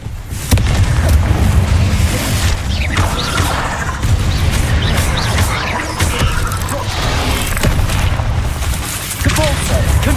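Confringo blasting spell explosions in the Hogwarts Legacy video game, loud, dense booms and crashes one after another for the whole stretch, with a voice shouting over the blasts.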